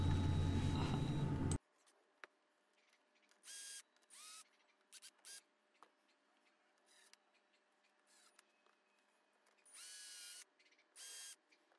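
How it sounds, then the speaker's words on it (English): A power drill with a VIX bit pre-drills holes and drives screws into a work table corner piece, starting with a loud sustained whir, then falling to several short separate bursts of drilling and driving with quiet gaps between them. "I'm using a VIX bit and pre-drilling the hole so I can make sure that the screws are dead center, and then driving the screws"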